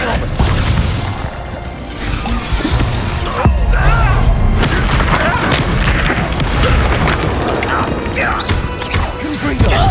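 The Expelliarmus disarming spell in the Hogwarts Legacy video game goes off amid loud booms, thuds and whooshing magic effects during a busy fight, with a voice speaking over the clashing effects.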